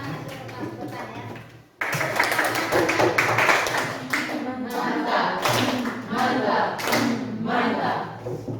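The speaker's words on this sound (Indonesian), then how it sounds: "Kita beri tepuk tangan mantap untuk teman-teman yang sudah bersangkutan ya." Classroom applause from students, lively clapping that cuts in after a short pause and continues steadily, with scattered voices and cheers mixed in close by.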